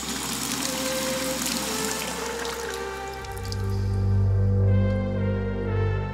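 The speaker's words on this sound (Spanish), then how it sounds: "Las llaves de agua se abrían por sí solas." Water taps in a cabin aboard the ocean liner Queen Mary turning on by themselves, with dripping and trickling water that gives way to a louder, deeper steady flow from the tap, close, without any speech.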